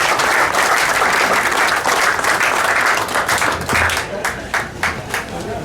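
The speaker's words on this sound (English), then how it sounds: "Please join us in a round of applause for this." Audience applause at a wooden boat awards ceremony, a dense sustained wash of clapping from a sizeable crowd that thins toward the end into scattered individual claps.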